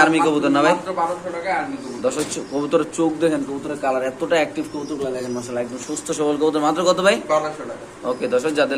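Pigeons coo softly at a pigeon sale, their low rolling calls repeating under loud, near conversation between people.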